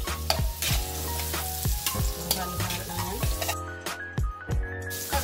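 Garlic and onion hit hot cooking oil in a pan, giving a steady close sizzle with repeated stirring scrapes. Background music plays throughout and no one speaks.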